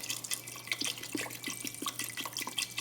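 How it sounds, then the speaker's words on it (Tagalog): Water poured into a cooking pot of beef for caldereta, a faint, continuous splashing trickle with small drips, with no talking over it. "Lagyan natin siya ng maraming tubig."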